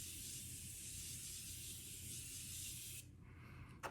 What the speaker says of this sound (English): I'm using the Morphe Mini Continuous Setting Spray.